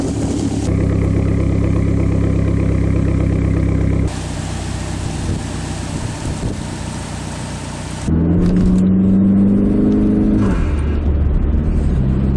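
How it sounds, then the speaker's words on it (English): Car engine after a cold start, running at a steady, close, loud idle with a low rumble, with a brief shift in tone partway through and a short rev or settling near the end; no talking. "So already just starting the car up from a cold start, it sounds way better."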